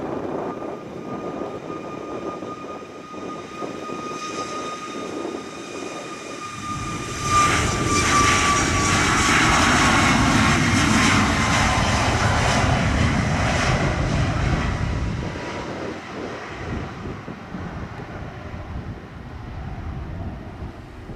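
A Southwest airliner taking off from runway 07 at Montego Bay, Jamaica: the engine roar swells sharply to a loud, sustained rumble, then eases away, with a high whine and some wind noise.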